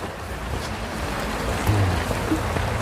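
Dense, steady rush of heavy rain pouring down close by on a mountain path at Khao Kho, Phetchabun, Thailand, a constant broadband hiss with low rumbling, no voices.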